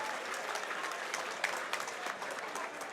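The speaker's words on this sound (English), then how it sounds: "How about a round of applause to both of these fighters?" Crowd applause after a three-round fight at a Fall Brawl event at the Castleton, steady dense clapping with a few sharper peaks, fairly close and continuous throughout.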